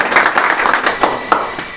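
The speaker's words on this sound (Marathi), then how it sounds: "दादांसाठी जोरदार टाळ्या होऊन जाऊ द्या एकदा टाळ्या वाजवा" An audience at a quiz contest in a study hall in Amravati claps loudly and steadily for a contestant, with dense, continuous applause throughout.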